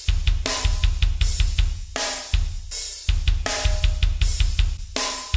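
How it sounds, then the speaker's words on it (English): Punchy, meaty drum loop from the harder preset of the Reason Drums Refill, playing alone with steady kick and snare hits and splashy cymbals in a driving, evenly repeated pattern with little dynamic variation. "The drums were from Reason Drums, the Reason Drums Refill, one of the presets"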